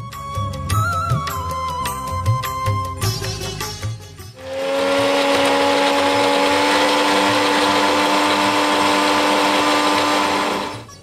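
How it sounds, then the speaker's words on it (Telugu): A kitchen mixer grinder grinding coconut for capsicum rice whirs loudly and steadily up close for several seconds, after brief clattering and background music at the start. "మిక్సీ పట్టుకుని వచ్చేసేయండి."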